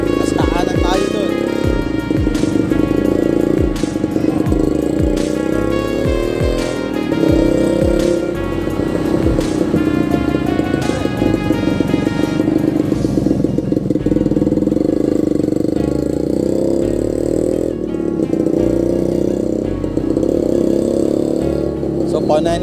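A motor tricycle passes along a flood-hit road in Pililla, Rizal, its mid-pitched engine droning steadily close by for the whole stretch, with some revving and people talking underneath.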